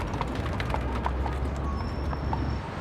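Horse hooves clip-clop steadily on a New York street as the animal pulls a Hansom cab carriage, a fairly even trotting rhythm heard through a constant background traffic hum.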